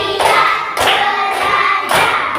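A primary school class performs a clapping routine, three loud sharp bursts of hand claps in quick rhythm, close and alone without speech.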